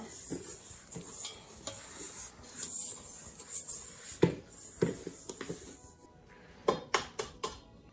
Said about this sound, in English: Now I'm going to mix the butter and sugar together.